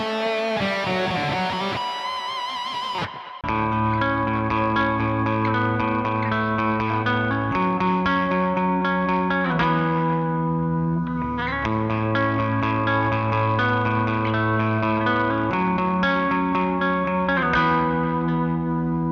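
Electric guitar through the Archetype Rabea plugin, drenched in reverb and chorus with an atmospheric lead over sustained chords, loud and continuous after a brief opening phrase.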